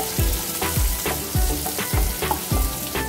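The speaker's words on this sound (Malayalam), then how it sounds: "നമുക്കിത് നന്നായിട്ടൊന്ന് സോട്ട് ചെയ്യാം" Thinly sliced onion sautés in a hot pan, a dense loud sizzle broken by regular scraping strokes of a spoon about every half second, close up with no voices.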